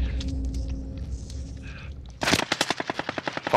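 Automatic gunfire in the video game Call of Duty: Warzone, a rapid burst of evenly spaced close shots following quieter in-game movement and distant sounds.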